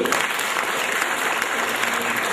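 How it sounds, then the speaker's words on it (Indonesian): A crowd at a motivational religious talk in Indonesia breaks into loud, sustained applause that stays full and even throughout. "Kita tepuk tangan dulu."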